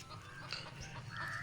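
A brooding hen sitting on eggs in an apple tray gives faint, low clucks and soft murmuring calls, quiet and close, over a hushed background.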